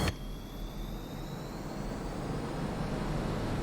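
A MiG-29's jet engines roar steadily during the takeoff roll in the DCS flight simulator, loud and continuous with a rising whine and no one talking.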